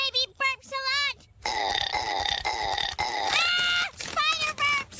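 A voice imitating a spider's burp, with a string of loud, croaky, gurgling belch sounds in short bursts and one long drawn-out rasp in the middle.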